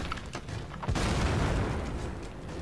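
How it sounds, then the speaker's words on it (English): A flashbang grenade goes off in the video game Road To Pig, a sudden loud burst that swells into a sustained, washing roar and holds without a break until the end. "Oh, flashbang"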